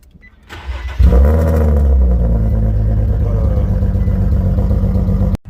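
An Infiniti G37 coupe engine cranks and fires, catching abruptly with a loud, close roar that settles into a steady, rumbling idle for several seconds before cutting off.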